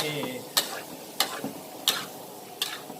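Squid stir-frying in a pan for a squid basil dish, with about four sharp scraping strokes of a spatula over a soft, steady sizzle. No one talks.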